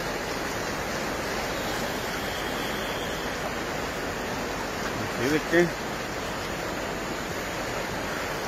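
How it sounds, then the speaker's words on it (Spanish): A swollen river in El Salvador rushes after heavy rains with a steady, loud broadband roar of churning water throughout, and a voice briefly speaks over it near the middle. "para los que preguntan cómo el río ahorita viene creciendo, anoche no hubo, ayer y anoche no hubo ningún incidente, pero ahorita sí, ahí viene con todo"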